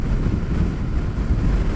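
Heavy, constant crosswind buffets the microphone on a 2021 Indian FTR S motorcycle at 70 mph, 4,000 rpm, a deep, rumbling roar like rushing air at highway speed.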